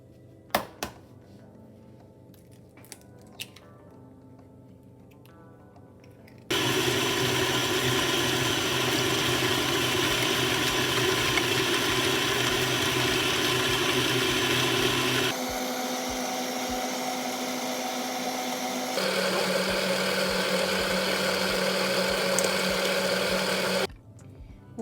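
Electric hand mixer beating eggs one at a time into blueberry muffin batter: a loud, steady motor whir that starts abruptly, shifts pitch partway as the speed or load changes, and runs continuously for most of the clip with no talking.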